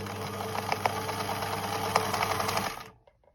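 A Bernina Nova sewing machine stitching at a steady fast rhythm after a foot pedal rewire, a close loud mechanical whir with rapid needle clatter that runs for under three seconds, then stops into near silence.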